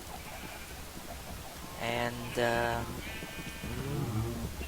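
Sheep bleat on a Minecraft farm, several wavering cries in quick succession, clear and close, while someone talks quietly underneath.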